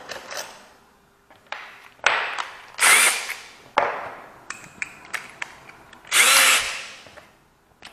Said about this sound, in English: we are going to drill this in there